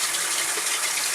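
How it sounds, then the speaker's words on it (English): Hot water gushes steadily into a plastic container being rinsed, a continuous close hissing rush with no voices. "I will rinse it out in some hot water and I will sanitize it"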